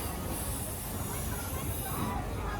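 The Howrah–Rampurhat Shaheed Express with new LHB coaches rolls along in a steady, close rumbling hiss, a continuous noisy wash with no clear pauses over a couple of seconds.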